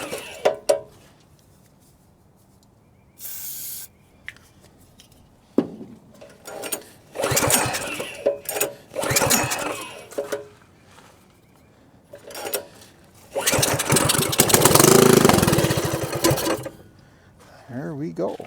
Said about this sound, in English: We'll give it a pull over and see whether that brake cleaner is enough to get it to fire.